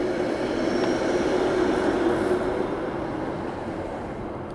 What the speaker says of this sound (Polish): O, teraz też są stare te tramwaje takie.